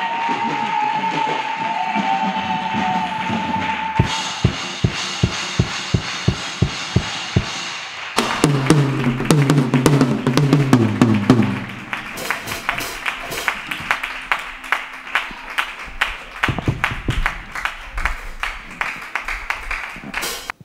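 A church congregation claps in steady rhythmic beats to acclaim the Lord, the claps swelling into a dense burst and then returning to a regular pulse over a faint background of voices and sustained tones.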